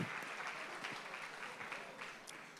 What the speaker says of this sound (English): Can we please give ourselves a round of applause?